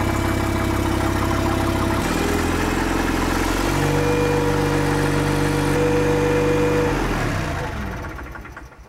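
A generator-type engine unit with an alternator runs steadily near at hand, its low hum stepping up in pitch as throttle is applied, holding there, then dropping away as it winds down near the end.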